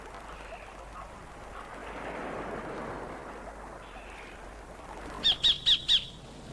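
A sacred kingfisher calls from the Queensland shore, four sharp, evenly spaced squawks near the end, loud and close over a soft background hiss.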